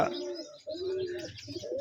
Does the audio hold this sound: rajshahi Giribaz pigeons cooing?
yes